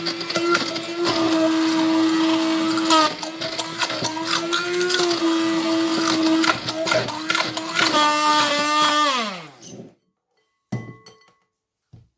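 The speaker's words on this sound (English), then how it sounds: "you just want to blitz it with our hand blender" A hand blender whirs loudly and steadily for several seconds blending cherry gel for macarons, its pitch wavering as it works, then winds down and stops, followed by a couple of faint clinks.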